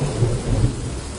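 Thunder rolls and rumbles through steady heavy rain during Hurricane Melissa in Jamaica, a continuous close downpour with low booming swells, no voices.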